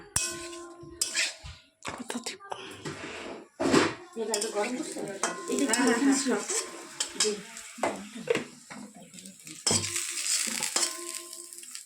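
Food frying in a pan in a home kitchen, with bursts of sizzle between clanks of a pot and utensil scrapes, close by, interrupted by brief talking.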